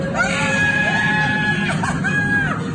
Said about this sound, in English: Who can help her? She was screaming.